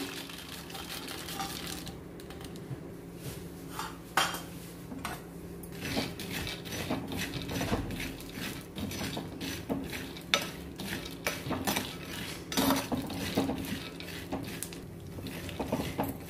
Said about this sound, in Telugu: కంటిన్యూస్గా గెరిటితో కలుపుకుంటూనే మనం పల్లీలను వేయించుకోవాలి.